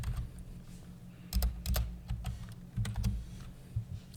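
Rapid keystrokes on a computer keyboard, close and clear, in short clustered bursts over a steady low electrical hum, with no voices.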